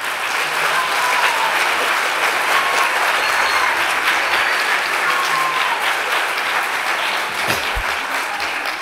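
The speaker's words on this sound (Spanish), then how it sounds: "muchísimas gracias por vuestro aplauso" Sustained audience applause at the premiere of an educational documentary in Palma, honoring the director: dense, steady clapping from a large crowd, loud and continuous throughout, with a few faint voices underneath.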